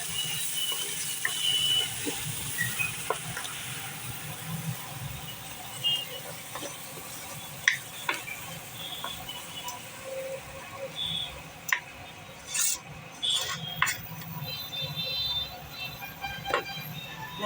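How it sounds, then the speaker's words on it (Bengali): Spices frying in a pan in a home kitchen give off a quiet, steady sizzling hiss, with scattered small crackles and pops running throughout. "মশলাটা দিয়ে দিলাম, এবার ভাজি"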